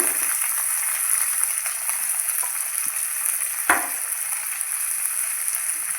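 Ginger and chopped onion fry in a pan for Kerala-style upma, a steady close sizzle with no talking, broken once by a single sharp clack of a spoon near the middle.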